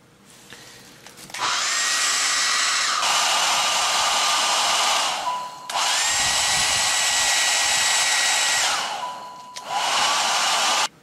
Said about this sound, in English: we got this hair dryer. We're going to try that.